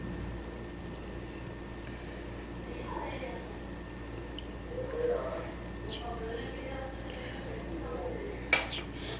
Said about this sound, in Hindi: और इसे अभी मैं मिक्स करूँगी